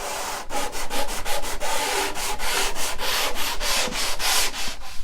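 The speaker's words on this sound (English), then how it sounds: "gently sand off any piece that's a little bit high" Hand sanding along the edge of a wooden desk top gives a close, rhythmic rasp. Quick back-and-forth strokes repeat steadily, about three or four per second, and there is no talk.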